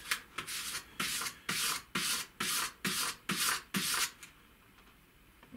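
A wood carving tool edge being honed, with eight steady rhythmic rasping strokes in a row, close and fairly loud, then a quiet pause.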